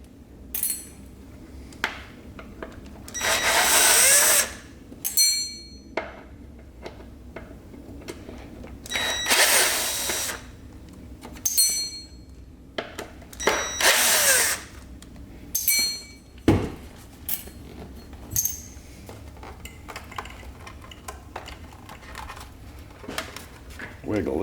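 A power drill pulls the tiny screws from the battery plate of a Summerboard SBX snowboard-skateboard deck in repeated loud, close whirring bursts a few seconds long. Metallic clicks fall between the bursts, and a voice talks over parts of the work.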